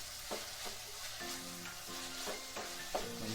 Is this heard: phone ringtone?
no